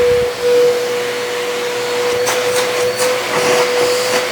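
A Bissell vacuum cleaner runs with its brush roll spinning, giving a loud, steady motor drone with a sustained whine and faint intermittent knocks, close by.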